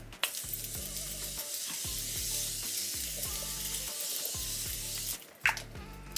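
A long, steady hiss of fine makeup setting spray misting close by, running unbroken for about five seconds before cutting off, then a short burst and a click.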